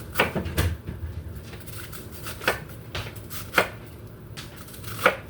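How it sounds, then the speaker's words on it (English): A knife chops fresh pak choi on a cutting board, a handful of sharp, separate knocks spaced irregularly over a low kitchen background hum. "Yeah, so I'm cutting them."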